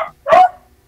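A single sharp, loud dog bark up close, a brief burst from dogs barking at a cat outside, with near silence around it.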